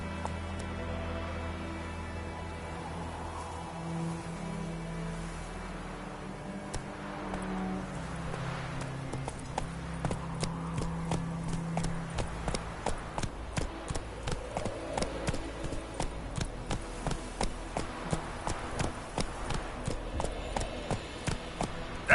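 Roach the horse's hooves in Witcher 3 start as a soft, slow clip-clop over low ambient game music, then become a steady, distinct rhythmic trot of repeated close hoof strikes through the latter half.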